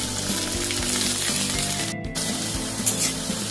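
Crushed garlic, chopped onion and tomato fry in a pan for a ghugni, giving a steady, loud close sizzle with a brief sharp break midway, no voices.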